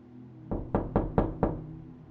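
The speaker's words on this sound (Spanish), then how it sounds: "Tyler volvió a tocar a mi puerta" Five firm knocks on a door, close and evenly spaced, each with a short resonant thud, and no voices.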